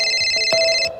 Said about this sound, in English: and my cell phone rang